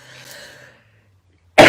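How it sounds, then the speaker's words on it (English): A quiet, low murmur fades to silence, then a single sharp, loud throat clearing bursts out close by at the very end. "I have to clear my throat now."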